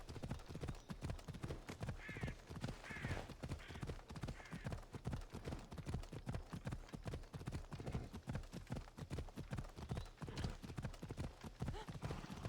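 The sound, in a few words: horse galloping in video game Assassin's Creed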